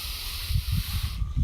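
A single slow inhale drawn in through the nose or mouth during a guided meditation, a soft steady airy hiss lasting over a second, close and fairly quiet, ending with a faint click.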